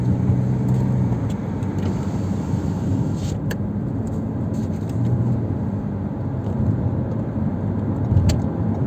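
A car driving steadily during a driving lesson, its engine a continuous close rumble that swells slightly as it accelerates, with faint interior clicks and rattles.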